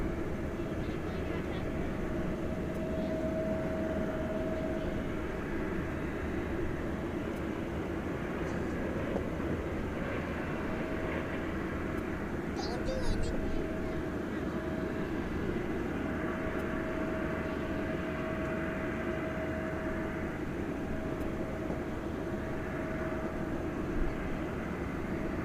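A regional airliner takes off at night from runway 18 Left at DFW Airport. Its steady, distant engine roar and rumble runs throughout, with faint radio chatter under it.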